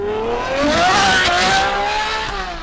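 A naturally aspirated 6.5-liter V12 supercar engine revs loudly and steadily climbs in pitch, a continuous close-up roar with no voices.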